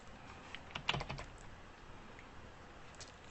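Typing on a computer keyboard while starting a new chat in Microsoft Teams, a cluster of quick, light key clicks near the one-second mark, then quiet room tone and a final sharp tap.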